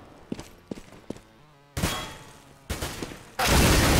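Gunfire in a competitive Counter-Strike match on the map Nuke, scattered single shots followed by louder bursts of rapid fire, with a heavy blast of noise at the end.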